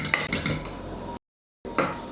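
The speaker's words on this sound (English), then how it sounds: "Now, 2 eggs. Now, I got to mix them a little bit." A fork clinks against a bowl while two eggs are beaten for chocolate chip cookie dough, giving quick close scraping taps, then a short silence and a final burst of clinking.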